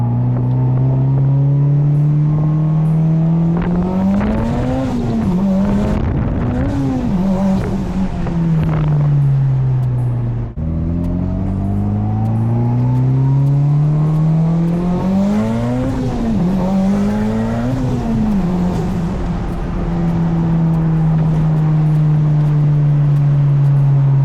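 A big-turbo Mitsubishi Evo X roars loudly and continuously from close range, its engine rising in pitch under hard acceleration, dropping sharply at each gear change and climbing again, with tires faintly squealing in places.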